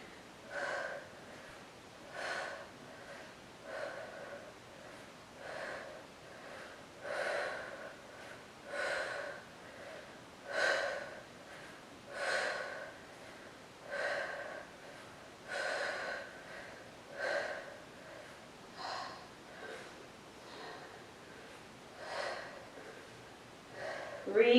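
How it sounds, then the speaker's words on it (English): Deep, steady breathing during a Pilates workout, rhythmic inhales and exhales repeating about every second and a half across the whole stretch, close and moderately loud with no talking. "breathing deeply."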